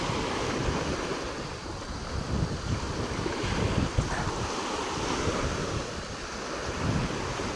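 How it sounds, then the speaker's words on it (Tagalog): Strong typhoon wind blusters across an exposed shoreline, a steady loud rush buffeting the microphone over crashing surf, with no voices. "Naalakas na pati ang hangin."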